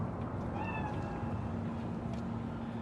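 Cat meowing inside the game Cyberpunk 2077, in Night City: a single drawn-out, wavering meow stands out over a steady droning ambient background, with no talk.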